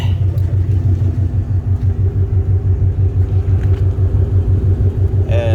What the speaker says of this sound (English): The engine, the exhaust is not too loud.